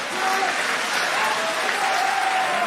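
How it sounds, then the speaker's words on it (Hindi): Sustained, dense applause from a large audience at a comic poetry recitation, loud and steady throughout with no pauses. "जोरदार तालियां बजाओ सब मिलके।"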